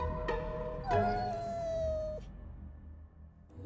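A cat lets out a long, drawn-out meow indoors, loud and close, preceded by a short sharp sound and followed by quiet room tone.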